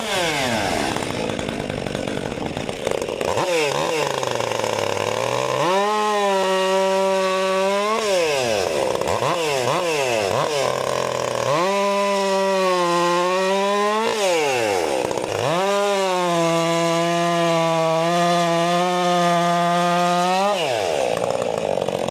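A STIHL chainsaw cuts into a hardwood pile of oak, elm and a little pine, loud and close, repeatedly revving up and bogging down in three long cuts with rising and falling engine pitch between them.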